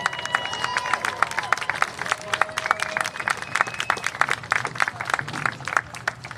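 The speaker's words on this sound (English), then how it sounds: "Let's give the 2024 homecoming court a round of applause." A crowd applauds steadily for a university homecoming court at a football game, with sustained clapping throughout and a few scattered cheers.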